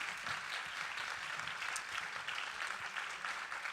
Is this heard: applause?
yes